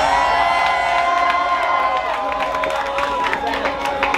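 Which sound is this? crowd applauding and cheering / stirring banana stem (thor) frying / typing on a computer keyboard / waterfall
crowd applauding and cheering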